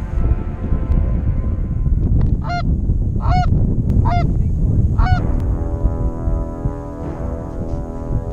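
Snow geese honking while decoying into a field, four loud nasal honks spaced about a second apart over a steady low rumble of wind or background noise.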